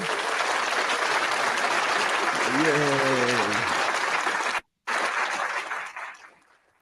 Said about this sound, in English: One more clap for you.